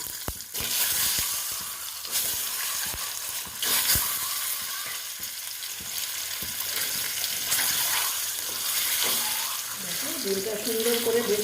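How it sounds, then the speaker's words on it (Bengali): Egg frying in hot oil with salt and turmeric gives a loud, close sizzle with sharp spatters and clicks throughout, and some background noise near the end. "এখন আমি এটাতে ডিমটা ভেজে নেব"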